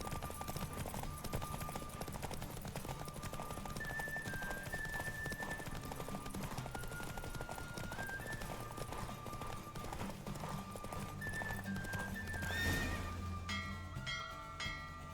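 Hooves of a galloping horse in a video game horse race, a steady clip-clop rhythm running throughout over music and game ambience, with a brief swell near the end.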